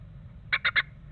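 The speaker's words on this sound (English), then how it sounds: "That's a call the parents' birds do to try to coax the young chicks into raising their heads and gape for food." A blue tit parent in a nest box calls to coax newly hatched chicks into gaping for food: three short, evenly spaced chirps, close and clear over a low steady hum.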